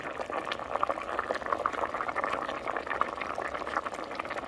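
Water bubbling and simmering at a steady boil in a covered pot, a continuous close rolling gurgle with no voices.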